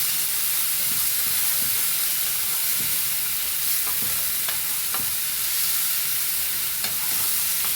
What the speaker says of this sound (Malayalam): രണ്ട് സ്പൂൺ ഗാർലിക് ജിഞ്ചർ പേസ്റ്റ് ഇട്ട് ഇത് നന്നായിട്ട് വഴറ്റിട്ട്